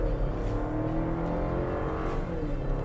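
A Chevrolet Colorado Trail Boss with a turbocharged 4-cylinder engine pulls at full throttle, a steady, dense engine drone heard from inside at moderate loudness, with no voices.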